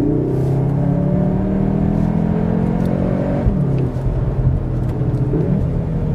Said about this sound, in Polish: Pod maską Cupry Formentor jest wyżyłowany czterocylindrowy silnik